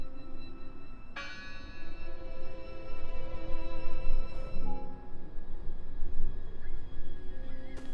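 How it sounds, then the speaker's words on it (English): A bell rings in the video game Draugen, one clear struck tone that hangs and rings out, then a softer second strike, over a steady murky ambient background. "It must be her ringing the bell."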